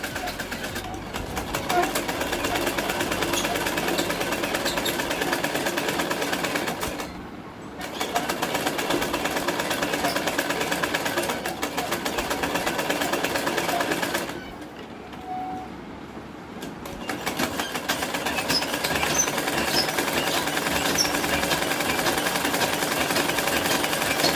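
A sewing machine runs almost nonstop, stitching handkerchiefs at home, with a steady mechanical whir. It pauses briefly twice and then resumes at the same loud, close level.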